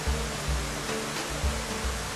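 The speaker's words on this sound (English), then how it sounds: "the water flowing over the slide" Water at Upper Wildcat Falls pours over a rock slide, splashing into little fountains, giving a steady, dense rushing roar close by with low thumping surges, no talk.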